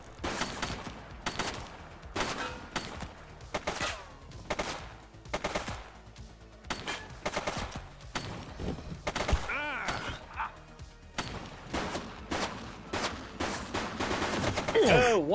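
Enemy gunfire in a police video game: bursts of rapid shots crack repeatedly throughout, loud and dense, alternating with brief pauses and rising into a heavier barrage near the end.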